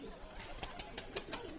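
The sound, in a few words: baby pigeon flying and cooing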